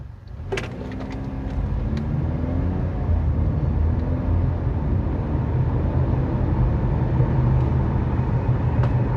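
A 2019 Chevy Equinox driving with bad brakes gives a steady, loud whooshing roar over a deep road rumble, unbroken throughout with no voices.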